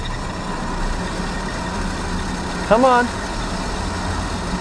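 An SUV in all-wheel-drive mode with traction control on idles and revs on test rollers, a steady low engine drone with a brief rising whine as a wheel spins; a man mutters briefly.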